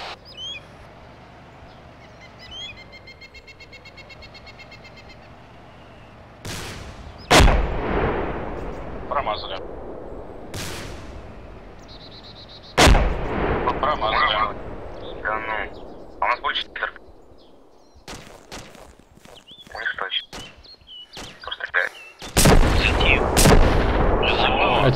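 Gunfire and heavy artillery fire in the military video game ArmA 2 with the ACE mod: sharp loud blasts and bursts of shots come in several clusters, alternating with quieter stretches, while people talk over the action.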